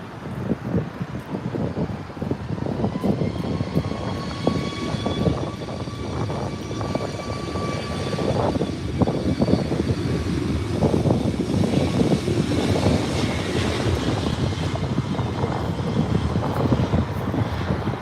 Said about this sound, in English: 737 MAX 9, another beautiful airplane with an ugly past.